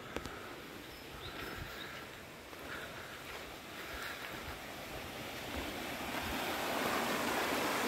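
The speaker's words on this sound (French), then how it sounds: "c'est la rivière qu'il y avait derrière le petit moulin là-bas" A river behind a small mill rushes continuously with a broad, steady hiss, swelling a little louder toward the end; no voices.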